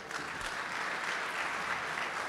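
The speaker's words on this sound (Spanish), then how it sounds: "El aplauso para él también" An audience at a talk gives a continuous round of applause, many hands clapping together in an even, steady wash that stays fairly quiet throughout.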